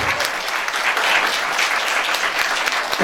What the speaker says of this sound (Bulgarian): тук да ги посрещнем с още по-силни аплодисменти, отколкото им дадохме на самото начало